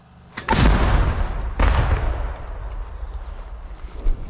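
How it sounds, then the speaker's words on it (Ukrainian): Two heavy Ukrainian army mortar shots boom out about a second apart, each a sharp blast followed by a rumbling decay, with lingering outdoor noise after. "Постріл!"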